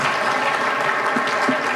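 A panel audience applauds a departing speaker with a dense, steady wash of many hands clapping throughout, loud and close.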